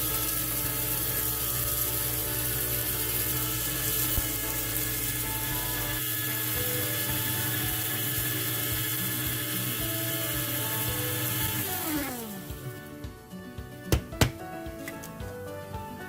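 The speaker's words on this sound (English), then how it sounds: "I'm going to run that again to get a finer powder" An electric spice grinder whirs steadily as it pulverises spices into a fine powder, running loud and continuous for about twelve seconds before spinning down, followed by a few clattering knocks.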